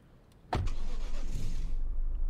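A car engine in a video game cranks and catches with a sharp burst, then settles into a steady, fairly loud idle after the brief start.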